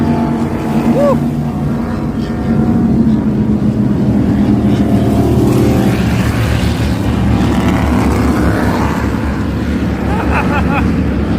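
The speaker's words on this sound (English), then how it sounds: "they do like a boat race, like a power boat race" Power boat engines roar on a river in Maryland during a race, a loud continuous drone layered with wind buffeting the microphone.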